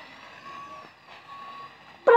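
A truck's reversing alarm beeps in a driving simulator game, a steady, moderately faint electronic tone repeating over engine hum before a louder burst of sound at the end.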